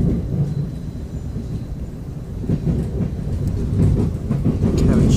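A deep, rumbling electric passenger train roar builds steadily as it passes, heavy low-frequency rolling noise growing louder toward the end, with no distinct voices.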